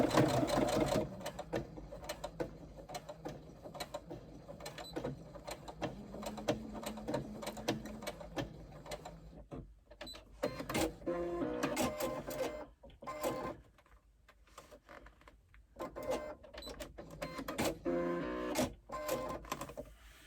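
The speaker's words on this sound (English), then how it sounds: "And again, do my little extra seam in the seam allowance." A sewing machine stitches an extra seam in the seam allowance of a pleated garment, running in steady rapid bursts with short pauses between, close and fairly quiet, with no talking.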